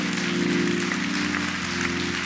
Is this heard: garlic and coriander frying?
no